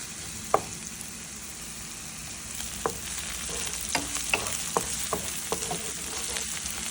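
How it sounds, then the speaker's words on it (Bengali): Dried fish, garlic and onion fry in a pan with a steady sizzle, broken by sharp scraping knocks as a spoon stirs the ingredients, close and clear with no talking. "শুটকি রসুন এবং পেঁয়াজ খুব বেশি ভাজতে হয় না"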